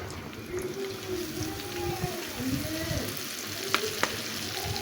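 Egg jali kebab fries in a pan with a steady, close sizzle and hiss, plus a few soft stirring and scraping touches and brief clicks.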